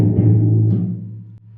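A percussion drum struck once and left undampened, ringing on with a low sustained tone that slowly fades over about a second and a half, heard alone.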